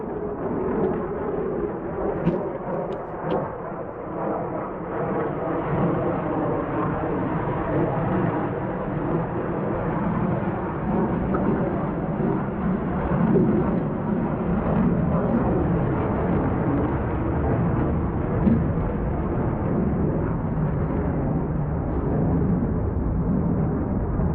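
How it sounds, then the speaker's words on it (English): A steady, broad roar of a fighter jet passing overhead in the Israeli desert, loud and sustained throughout with no voices, rumbling evenly from start to finish. "you can also hear sometimes fighter jets flying overhead"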